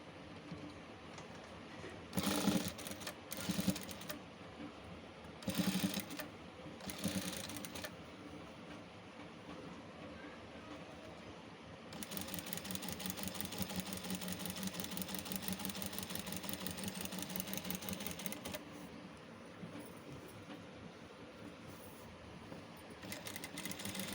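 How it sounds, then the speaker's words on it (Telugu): A sewing machine stitches right beside a thread piping cord so the needle avoids the thread, running in short bursts at first and then in a long steady whirring stretch, fairly close and with no talk. "ఇప్పుడు చేసే స్టిచ్చింగ్ అనేది మనం ఆ థ్రెడ్ మీద కుట్టు పడకుండా థ్రెడ్ పక్కన కుట్టు వచ్చేలాగా వేసుకోవాలండి"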